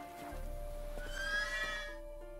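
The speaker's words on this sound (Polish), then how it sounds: "Pierwsze co koń zrobił, jak na niego siedliśmy, to stanął dęba." A horse in The Witcher 3 video game gives one loud, close whinny as it rears, the neigh rising and falling for about a second over low ambient game noise, with no talk.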